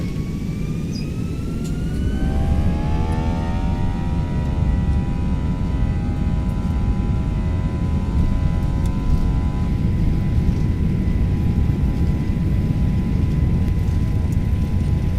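Airbus A321 jet engines in a flight simulator roar steadily during the takeoff roll, a loud, constant rumble with a rising whine layered on top as thrust builds and holds.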